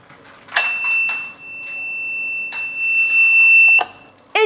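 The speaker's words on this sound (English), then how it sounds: "when I pull this door, this over here will release and it'll create an alarm sign." A homemade intruder alarm on a door sounds a steady high electronic tone that sustains for several seconds, with the door clicking and rattling at the start and end.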